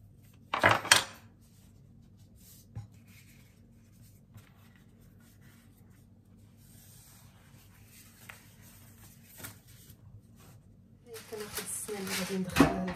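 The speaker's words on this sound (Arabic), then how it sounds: "وغادي نقطع بالموس على هذا الشكل هذا" A knife cuts through a tray of peanut baklava layered with buttered phyllo, giving sharp scraping and clinking bursts at the start and a denser run of crisp crackling at the end, with quieter pauses between.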